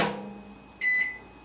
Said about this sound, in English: Now I'm going to put that in the microwave for